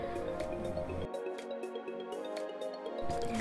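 Cloth wiping and scrubbing a kitchen gas stove top clean, a steady wet rubbing and squishing that runs continuously at close range, with faint clinks and no talking.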